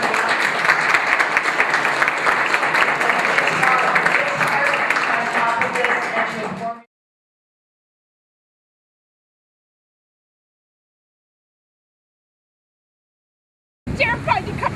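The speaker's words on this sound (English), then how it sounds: "You deserve a round of applause." A rally crowd on a political listening tour breaks into dense, loud applause that runs for about seven seconds, then cuts to silence before a brief burst of clapping returns at the end.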